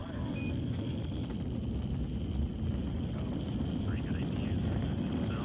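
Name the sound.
rocket launch liftoff engine roar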